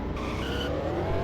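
A custom 2008 Dodge Charger SRT8 skids in a racing video game, tires squealing over a steady engine roar, loud and close for a brief moment with no talk.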